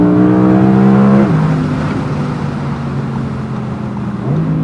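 A loud car engine revs high with a strong harmonic whine, drops abruptly as it shifts down, then rumbles and climbs again near the end.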